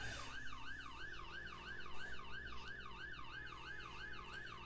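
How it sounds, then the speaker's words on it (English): A wailing emergency siren rises and falls in a steady, rapid cycle, fairly faint and distant, continuing throughout with no talking. "That siren."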